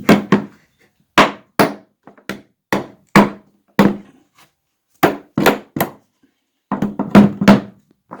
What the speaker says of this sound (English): And a rubber mallet. Should be able to tap that in, tighten up those gaps.